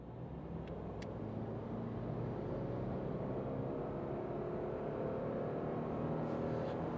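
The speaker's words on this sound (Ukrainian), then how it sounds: "Зараз газ в підлогу." A Subaru Crosstrek accelerating at full throttle from 30 km/h gives a steady, muffled engine drone heard from inside the cabin, with rising tones that climb slowly throughout.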